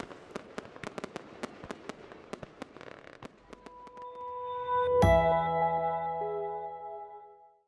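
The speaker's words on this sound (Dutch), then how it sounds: "Vuurwerk afsteken? Alleen op oudejaarsavond tussen 6 en 2." Fireworks set off on New Year's Eve in Brunssum give a rapid series of sharp crackling bangs, then a louder burst followed by a sustained hissing, whistling rush that fades out.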